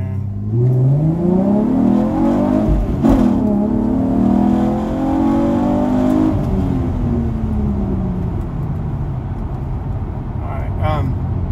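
A 5th-generation Chevrolet Camaro accelerates hard through the gears, engine note climbing in loud close sweeps with a shift around the middle before easing into a steadier drone.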